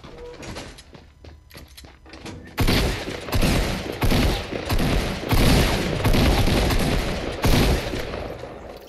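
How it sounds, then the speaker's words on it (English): Gunfire in the Fortnite battle royale video game: sparse quieter shots early, then a sustained loud barrage of rapid, overlapping shots and impacts from about three seconds on. "I shot him like 5 times!"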